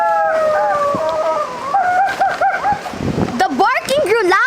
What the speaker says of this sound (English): I did hear the barking of the wild dogs